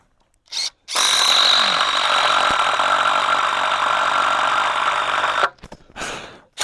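A power drill drives self-tapping screws into a metal gate hinge on a picket, giving a loud, close, continuous high whine for about four and a half seconds, with brief bursts before and after.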